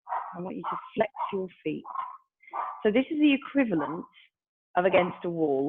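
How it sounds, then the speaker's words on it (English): A dog barks and yips intermittently in the background while someone talks through a seated stretching exercise, the barks mixed in beneath her steady instructional speech. "apologies for the dog"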